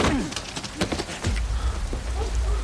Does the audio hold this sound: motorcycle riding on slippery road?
no